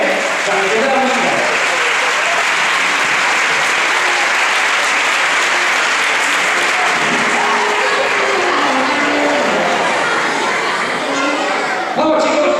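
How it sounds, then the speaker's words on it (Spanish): Loud sustained applause from a large audience at a band concert, continuous clapping filling the whole stretch with a murmur of voices underneath. "Pues un fuerte aplauso cuando empiece la música"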